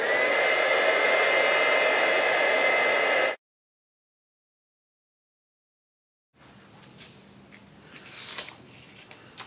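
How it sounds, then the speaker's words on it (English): A heat tool warms white embossing powder with a loud, steady blowing whoosh close by for about three seconds, then cuts off into silence, after which quiet handling rustles follow. "And now with your heat tool,"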